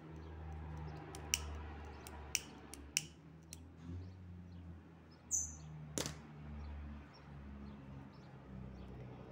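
Scissors snip the edge of a satin ribbon while a bow is being made: several sharp, close metallic clicks spaced a second or so apart over a quiet room hum, with faint chirps in the background.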